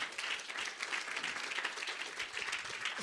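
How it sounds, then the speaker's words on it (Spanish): A congregation at a spiritual talk bursts into applause, brisk and fairly close clapping from many hands that stays dense and even through the short burst. "démosle un fuerte aplauso al que vive para siempre"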